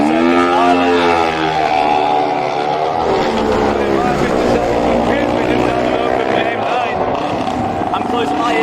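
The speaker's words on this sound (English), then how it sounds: "Beautiful two-stroke sound" A two-stroke racing motorcycle at the Manx Grand Prix Lightweight race, its high, sweeping engine note rising and falling as it passes, loud and continuous with wind and a commentator's voice over it.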